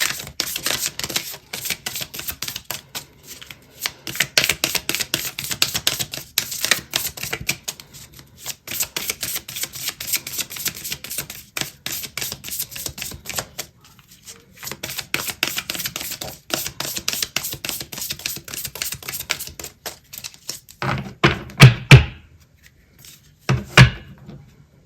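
Oracle cards are shuffled and drawn from a deck, giving long runs of quick, close papery riffling and flicking. A few louder card taps and thumps come toward the end.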